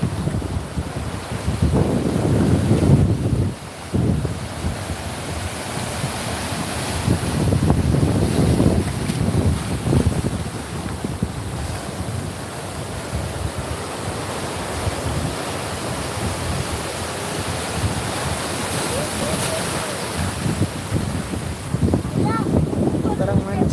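Big sea waves roll and crash at a beach while strong wind buffets the microphone, a loud rushing surge rising and falling throughout, with people's voices briefly heard over it.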